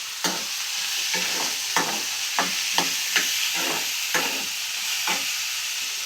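Sliced onions frying in a pan for an egg and drumstick curry, a steady bright sizzle broken by repeated stirring scrapes and clatters roughly every half second, close and loud with no talking.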